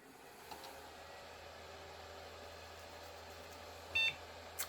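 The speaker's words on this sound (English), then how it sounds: "And we have one beep." A mini Pentium PC gives a single short, high startup beep late on, over a faint, steady electrical hum in a quiet room.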